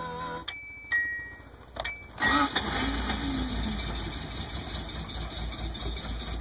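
A 1985 Subaru GL 4WD wagon with a carbureted engine starts: a few chimes and clicks first, then the starter cranks and the engine catches, settling into a steady idle.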